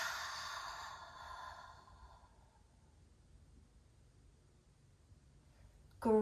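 A long, slow exhale during a children's yoga breathing exercise: a soft, breathy sigh that is loudest at the start and fades over about two seconds into near silence, followed by a brief noise at the very end.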